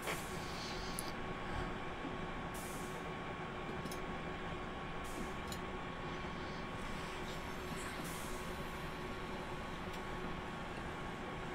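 Continuous rumbling train noise from a train simulator video game on the Riviera Line, with a steady drone and occasional brief hisses, like a locomotive running along the track; no talking.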